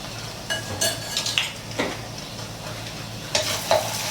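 Eggs being beaten and scrambled in a frying pan for a stir-fried Mama instant noodle dish, with a utensil scraping and clinking against the pan in a few scattered strokes over a low, steady sizzle, close by and with no talking.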